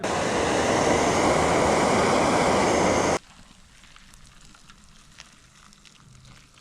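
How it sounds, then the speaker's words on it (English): A loud, steady roaring hiss of a camping gas stove boiling water runs for about three seconds, then cuts off abruptly, leaving quiet background with faint small sounds. "Got the noodles cooking up and jet boiling some more water for JR."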